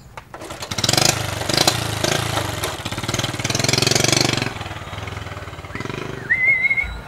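A motorcycle engine cranks and catches nearby, then settles into a loud idle that later revs, with a thin whistling tone over it.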